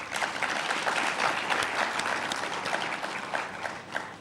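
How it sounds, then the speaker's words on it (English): A steady round of applause fills an awards ceremony hall, dense and sustained clapping from a large audience with no talking over it. "They deserve an absolute round of applause."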